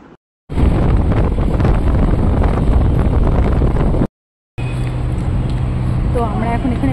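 Wind buffets the microphone while riding a motorbike across a bridge on a cool afternoon, a loud continuous rushing roar broken by a short dropout, with traffic noise faintly beneath.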